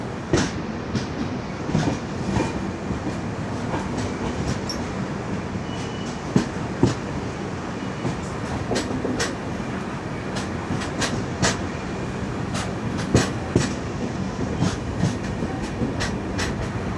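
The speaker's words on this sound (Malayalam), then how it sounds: "നമ്മളിത് രാജാപൂർ റോഡിൽ നിന്ന് പുറപ്പെടുന്നു." Rajdhani Express pulling out of Rajapur Road station, heard from inside an AC 3-tier coach: a steady low rumble with repeated sharp wheel clicks over rail joints, no voices.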